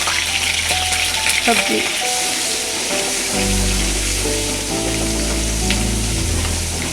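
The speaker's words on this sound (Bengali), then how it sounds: "তেল দিয়ে চিংড়ি মাছগুলো দিয়ে দিলাম। ছোট চিংড়ি মাছ দিয়ে" Small shrimp frying in oil in a pan, giving a loud, steady sizzle that fills the whole stretch with a dense crackling hiss, with a few faint clinks and a brief word spoken over it.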